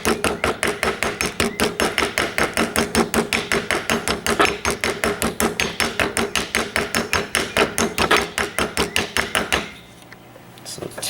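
A hammer taps a metal part on a John Deere 300 series tractor during voltage regulator replacement, about thirty loud, evenly spaced close metallic strikes in a fast steady rhythm, then stopping abruptly.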